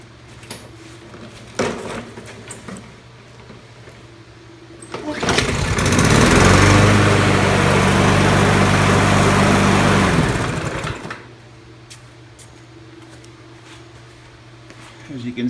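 A trash-picked Craftsman AWD lawn mower engine, run without its blade, starts up and roars loudly for several seconds, then cuts off. Quiet shop noises and handling sounds come before and after the engine run.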